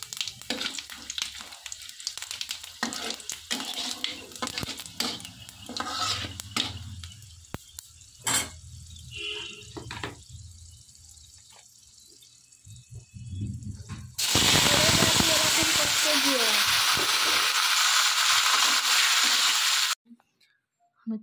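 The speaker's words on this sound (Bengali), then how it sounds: "আমি তেলের মধ্যে পেঁয়াজ আর কাঁচা টমেটো কুচানো ছিল, আমি সেটা একটু লাল লাল করে ভালো করে ভেজে নেব" Spices, chopped onion and raw tomato hit hot oil in a wok, bursting into a loud, steady sizzle that lasts several seconds after quieter clatter and stirring noises.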